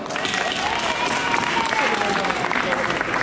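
Crowd applause at a baby fair stage show, a dense continuous clapping roar with a voice or singing tone faintly running beneath it, steady and fairly loud.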